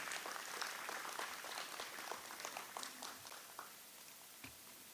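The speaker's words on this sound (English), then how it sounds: "Could we give her a round of applause, please, as she makes her way to the microphone?" Gala audience at an anniversary awards ceremony applauding as someone walks to the microphone; a quiet, distant, even patter of many hands that tapers slightly toward the end.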